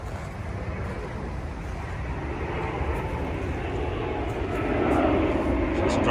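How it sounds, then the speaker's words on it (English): A steady, rumbling jet roar from a plane flying overhead near Heathrow that swells gradually louder toward the end, with faint voices underneath. "Excuse the noise of the plane, we're near Heathrow."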